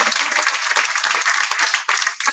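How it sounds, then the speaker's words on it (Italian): Audience applause fills a hall during a 2023 public meeting and community event, steady, dense clapping from many hands that stays loud throughout, with a brief dip near the end before picking up again. "Facciamogli un applauso"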